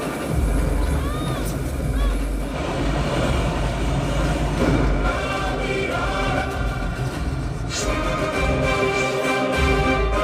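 A train runs along toward a cave, a continuous loud rumble and rattle of rail wagons with a muffled murmur of voices beneath, steady for the whole stretch.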